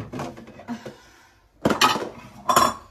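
Black Ikea dinnerware plates and bowls handled in a kitchen, a few close clinks and knocks of ceramic being set down and stacked, with quiet gaps between bursts.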